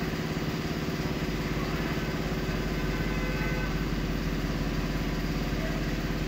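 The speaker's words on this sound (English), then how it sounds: "Sorry about that compressor behind me" An air compressor runs in a workshop, giving a loud, steady motor drone that holds constant throughout with no break and no voices.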